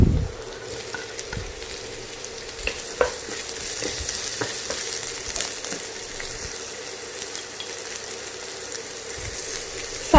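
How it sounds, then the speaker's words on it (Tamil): Carrots and capsicum stir-frying in a pan for restaurant-style chicken fried rice, a steady close sizzle with clinks and scrapes of stirring throughout, no talking. "கேரட்டை லேசாக வதக்கிட்டு நம்ம குடமிளகாய் சேர்த்துக்கலாம்"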